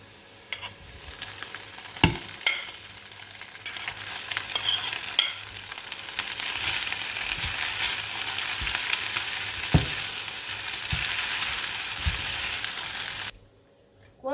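Rice being stir-fried in a pan with lightly browned onions for egg fried rice, a steady crackling sizzle with occasional clunks of the spoon against the pan, ending abruptly.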